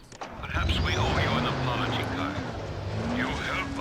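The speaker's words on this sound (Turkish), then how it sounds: "araç bayağı bir hızlandı" A vehicle in Dying Light: The Following accelerates hard, its engine note climbing in pitch with squealing tires, loud and close, while a voice talks over it.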